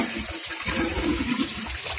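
Water runs from a tap above a sink during a repair of a leaking under-sink trap, a steady close rush of flow lasting about two seconds with no talk.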